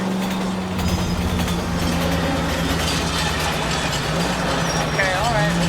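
A train rumbles past steadily with a low mechanical drone in the video game L.A. Noire, while a voice talks over the rolling noise.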